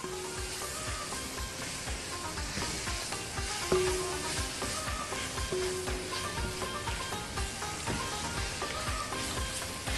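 Flour being stirred into sizzling beef in a pan for beef stroganoff gives a steady, dense crackle and hiss throughout, with spoon scrapes and occasional clinks on top.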